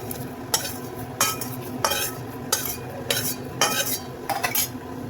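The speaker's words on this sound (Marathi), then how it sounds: "हे आपण भाजून घेऊया." Dry spices, including cinnamon, are stirred in a pan being dry-roasted for Marathwada-style kala masala, with a metal spoon scraping in about seven regular, close strokes roughly every half-second apart over a quiet background.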